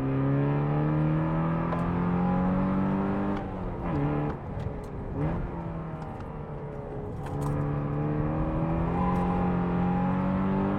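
A Porsche engine revs up through the gears past 4000 and 5000 rpm, pitch climbing steadily, dipping at shifts, then rising again; loud and close, with no voices.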